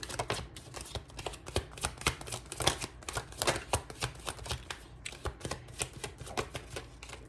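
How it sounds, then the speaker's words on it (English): Crisp riffling bursts of a tarot card deck being shuffled, repeated quick flurries in an irregular rhythm, close and fairly quiet. "I'm going to show you all the cards. I'm just going to shuffle them out."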